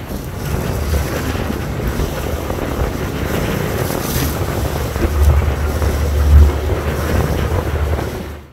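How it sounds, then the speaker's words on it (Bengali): Moyur 7 passenger launch on the river from Dhaka to Chandpur, turning at speed: a steady, loud engine drone and rushing water with heavy wind buffeting, swelling slightly near the end. "এবং টার্নিংয়েও দেখেন খুবই গতির সাথে মোড় নিচ্ছে এই ময়ূর 7 লঞ্চ"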